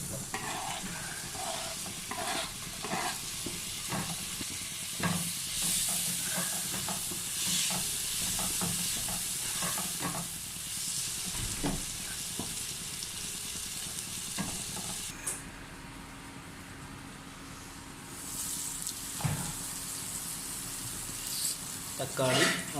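Chopped tomato fries in a pan with a steady sizzle and repeated spatula taps and scrapes against the metal; the sizzle drops briefly partway through before the stirring picks up again.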